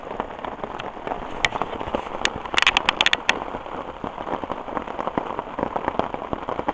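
Heavy rain patters continuously on surfaces at a campsite in Algonquin Park during a thunderstorm, with sharp nearby drips and splats cracking over the steady wash, no voices.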